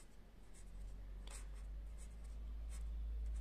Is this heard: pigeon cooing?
no